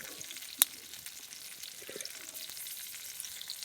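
Cauliflower and bean pieces fry in a pan with a steady, faint sizzle, and one sharp clink of the utensil sounds near the start. No one talks.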